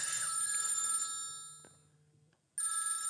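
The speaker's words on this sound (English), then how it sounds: "It's ringing now." A telephone bell rings in a ringtone burst that fades out, then after a brief silence a second ring starts loud and close, with no talking over it.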